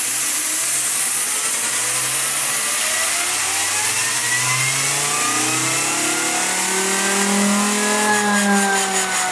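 A Lego bladeless air turbine generator runs on compressed air at about 85 psi, a loud continuous whine and whoosh whose pitch climbs steadily as it spins up, close and alone.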